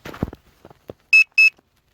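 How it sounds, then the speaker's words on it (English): Two short high-pitched electronic beeps from a Hubsan Zino Mini Pro drone controller during return to home, clear and close after some faint handling noise. "There's that beeping."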